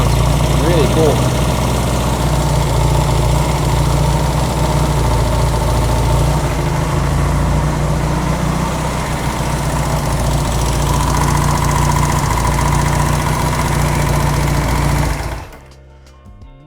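A Honda CB200 motorcycle engine with an aftermarket carburetor idles steadily and loudly up close, a continuous low throbbing drone that runs unbroken for about fifteen seconds before the engine is cut and falls quiet.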